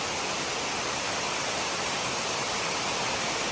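A waterfall at Gorges State Park in North Carolina, a steady, dense roar of falling water filling the whole clip, loud and unbroken with no other sounds.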